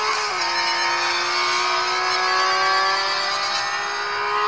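Race car engine from the Real Racing 3 video game, a loud, sustained high whine held at nearly constant pitch with a brief shift near the start, no speech over it.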